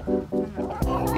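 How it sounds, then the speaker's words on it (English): Chickens on a farm in Sonoma cluck in a quick, close series of short, throaty bursts lasting about a second. "This is one of our chickens."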